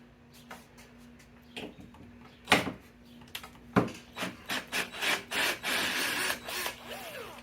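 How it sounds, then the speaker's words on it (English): Screwdriver bit backing three screws out of a wooden small-parts bin rack inside a cabinet, heard as a series of short scraping, ratcheting bursts that build into denser grinding toward the end, with a steady low hum underneath. "Trying to get these 3 screws out."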